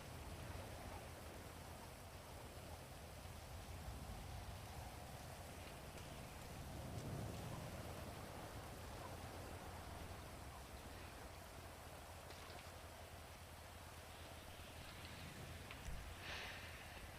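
Steady rain falls in a video game world, a continuous broad hiss of drops spread across the whole clip at a moderate, even level with no talking.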